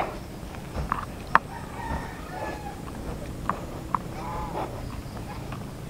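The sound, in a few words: chickens clucking and rooster crowing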